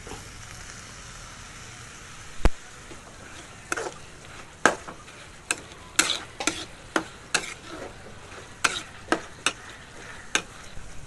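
Chopped onions, tomatoes and green chillies fry in a pan with a low background sizzle, while sharp, regular taps and scrapes of a spoon stirring against the pan ring out through the clip.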